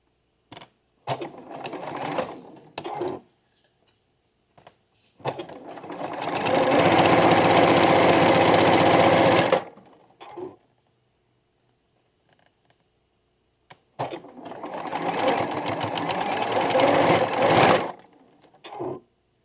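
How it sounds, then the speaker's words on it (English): A sewing machine stitches a quilt block seam in bursts: quick stop-start taps, then a long steady whirring run, a pause with small handling sounds, and another sustained run alone. "I'm going to sew that on as well"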